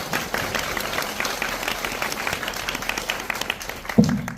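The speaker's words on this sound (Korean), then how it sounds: "큰 박수 부탁드립니다." Steady applause from a packed cinema audience at a film screening Q&A with actor Lee Byung-hun for the twenty-year-old film, a dense even wash of clapping that swells slightly near the end.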